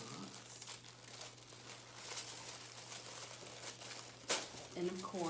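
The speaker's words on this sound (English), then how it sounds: "So I'm opening the box." Tissue paper crinkling and rustling as a gift box is opened, soft continuous crumpling under a person talking, with a sharper tearing crackle near the end.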